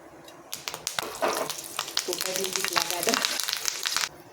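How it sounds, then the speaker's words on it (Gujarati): Curry leaves hit hot oil already holding mustard seeds and cumin, setting off a sudden loud, crackling sizzle that spits and pops for several seconds and then cuts off, with a voice speaking over it. "સાથે જ થોડા મીઠા લીમડાના પાન ઉમેરીશું।"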